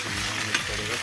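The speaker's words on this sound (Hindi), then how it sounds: "बाकी तड़का लगा इसमें जीरे।" Radish curry sizzles steadily in a pan after a cumin tempering, a constant close frying hiss with faint stirring and no talk.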